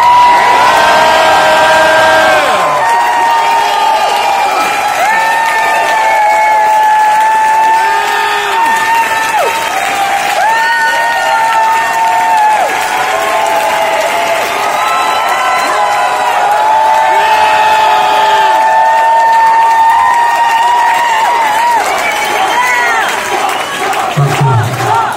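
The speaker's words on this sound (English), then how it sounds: "Please make some fucking noise for Topso" A large concert crowd at a show at The Van Buren roars, cheers and applauds continuously, with whoops and shouts rising and falling through a loud, sustained ovation.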